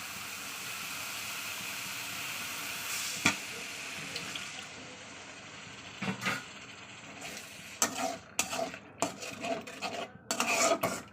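Water poured into a hot pan of prawn curry, hissing and steaming steadily, then a run of scraping and clinking stirring sounds close by near the end.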